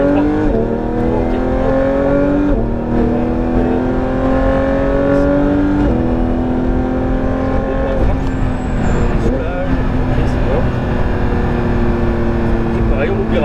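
A Porsche GT3 engine drones loudly and steadily while lapping the Laquais race circuit, its pitch rising through the gears with brief dips at the shifts. A driver talks over the engine throughout.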